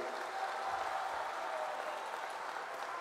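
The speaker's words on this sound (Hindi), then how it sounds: "एकनाथ शिंदे जी के लिए जोर से ताली बजाइए" A large crowd at a political rally in Palghar claps for Chief Minister Eknath Shinde, a steady dense roar of applause from a distance, continuous and even throughout with no speech.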